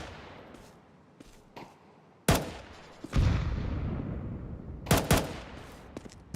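Gunfire in Counter-Strike, pistol warning shots near the bathrooms: a few sharp, loud cracks in short clusters with quieter gaps and lingering rumble between them.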